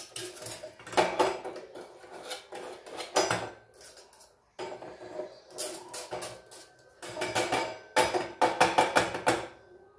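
A spoon or knife scrapes grime off a blackened kitchen item, giving close metallic scratching and clinking in uneven bursts separated by short pauses.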